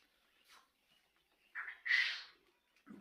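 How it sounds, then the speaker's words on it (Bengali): Quail, about thirty days old, at a breeding farm give a few short, sparse chirps. One brighter call rises near the middle against a quiet background. "তো দেখতে পাচ্ছেন যে এখানে কিন্তু অনেকগুলো পাখি রয়েছে।"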